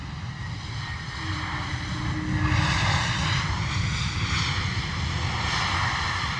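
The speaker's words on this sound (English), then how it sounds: "Wizz Air coming in from Gatwick. A321 Neo." A Wizz Air Airbus A321neo airliner comes in to land at London Luton Airport in wet, windy weather, a steady broadband engine roar that swells slightly midway and holds, fairly loud and without talk.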